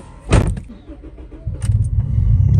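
A car engine cranks and catches with a sharp burst, then settles into a low, steady idle rumble that grows slightly louder. A second short whine comes partway through.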